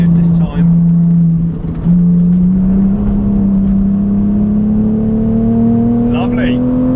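BMW Z4 engine on a race track held in third gear, a steady loud drone rising slowly in pitch as the car accelerates, close and continuous.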